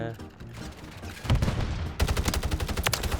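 Battle rifle gunfire in Call of Duty MWIII crackles in a rapid burst of close, sharp shots after a quieter, rumbling opening, loud and dense throughout with no clear speech over it.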